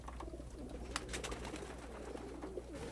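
Homing pigeons coo steadily in soft, repeated low calls, with wingbeats and light rustling close by under a constant background hum.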